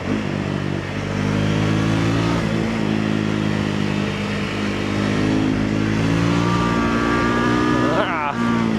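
A steady, throaty Triumph Scrambler 400X motorcycle engine drone with a low, rumbling exhaust tone that rises in pitch toward the end, loud and close, with no talking.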